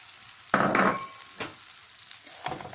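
Kadayif shreds and sugar sizzle and crackle as they are stirred in a pan, with a sharp burst of frying noise followed by quieter scraping stirs, and no talking.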